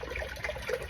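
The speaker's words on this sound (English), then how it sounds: "So we're just gonna pour this into the crock pot." Apple juice pours steadily into a crock pot for homemade apple cider, a soft, continuous liquid splash heard faintly and close, with no talking.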